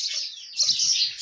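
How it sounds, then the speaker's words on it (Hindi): Small birds near a nest with chicks give a dense, continuous high-pitched chirping and twittering, close and fairly loud, with faint low thumps underneath and no talking. "यहाँ पर चिड़ियों के बच्चे हैं, नहीं दिख रहा है यार, चिड़िया बैठी हुई है।"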